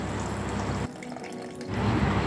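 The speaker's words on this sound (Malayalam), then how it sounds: "അരച്ചു വെച്ചിരുന്ന അരപ്പിലേക്ക് ആവശ്യമായ വെള്ളം കൂടി ചേർത്ത് കറിയിലേക്ക് ഒഴിക്കാം." Water running from a tap while ground coconut paste is thinned before going into a homestyle Kerala okra curry, a steady broadband rush that briefly drops away mid-clip, then resumes louder, with no voices.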